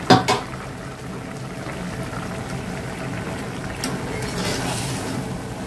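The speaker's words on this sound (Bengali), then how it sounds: "তো তরকারি এটা বলক চলে আসছে" Fish curry of small mola fish simmering in a covered pot, a steady soft bubbling hiss throughout with a couple of brief clinks at the start.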